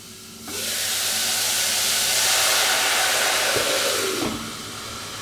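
White wine poured into a hot pan of browning onions and lardons sets off a sudden loud, steady sizzling hiss that holds for several seconds, then eases off. No one speaks.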